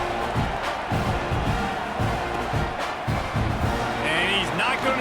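A large college football stadium crowd at LSU versus Texas A&M keeps up a loud, continuous roar and murmur, with a voice speaking over the din.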